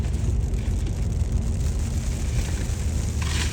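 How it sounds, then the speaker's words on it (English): Rain in Port St. Lucie, Florida, makes a steady, dense patter and hiss outdoors, continuous and fairly loud, with no talking. "Can't believe I'm getting rained on during a video."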